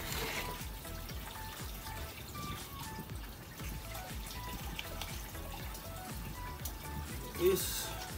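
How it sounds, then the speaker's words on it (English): Water trickles and splashes as a bucket scoops from a koi pond outdoors, soft continuous dribbling with a small louder splash near the end. "I'm going to bucket up the water at the pool."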